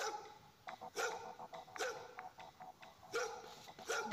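A dog in a video game barks repeatedly in short, sharp bursts, with a few yips spaced irregularly, moderately loud and close, with no speech over it.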